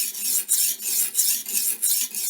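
A knife blade is drawn through a Tech Studio Russian knife sharpener, making a rhythmic rasping scrape. About six even, close strokes repeat one after another with nothing else heard.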